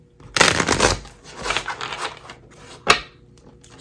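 Tarot and oracle cards shuffled by hand, close and loud, a riffling flutter followed by softer rustling and one sharp snap near the end, with no talk.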